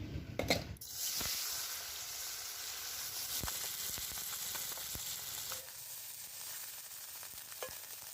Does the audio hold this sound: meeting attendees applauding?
no